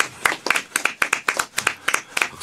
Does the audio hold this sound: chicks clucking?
no